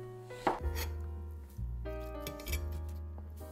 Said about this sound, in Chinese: 切几片生姜备用。